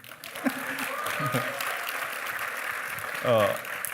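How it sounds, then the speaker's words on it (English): Sustained crowd applause at a graduate school of nursing pinning ceremony forms an even, hissing wash of many hands clapping. A voice speaks over it near the end. "Let's also give a round of applause to some of our staff who are behind the scenes"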